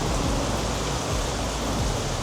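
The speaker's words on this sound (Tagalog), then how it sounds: "super ulan pa din" Heavy rain pours down steadily beside Naga Road near Cartagena, a loud, dense, unbroken hiss that fills the whole moment with no voices over it.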